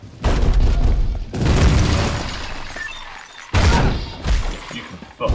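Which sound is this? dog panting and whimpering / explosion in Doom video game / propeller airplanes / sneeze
explosion in Doom video game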